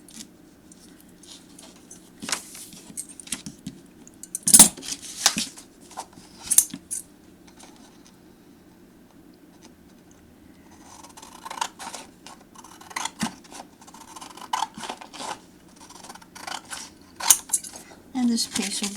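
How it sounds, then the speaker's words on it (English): Scissors snip through paper for a memory book in a quiet room, with a few sharp isolated cuts followed by clusters of snipping and paper rustling over a faint steady hum. "I'm just going to use my scissors now."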